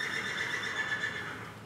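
A horse at a riding stable whinnies in one sustained, fairly close call with a strong, steady tone that fills the short moment, and no one speaks over it.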